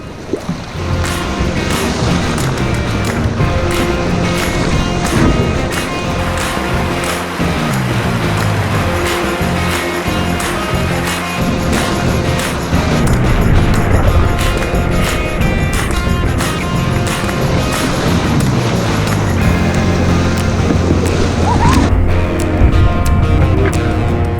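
Canoe running easy class 2 whitewater rapids in Temagami's Lady Evelyn-Smoothwater area: loud continuous rushing water with splashes and paddle knocks, close and steady throughout, no talk.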